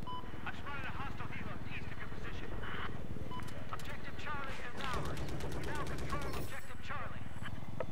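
Rapid automatic gunfire rattles in a continuous, loud stream during Battlefield 4 multiplayer, with people talking over the shooting throughout.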